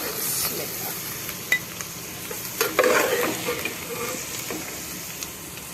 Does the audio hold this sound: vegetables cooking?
yes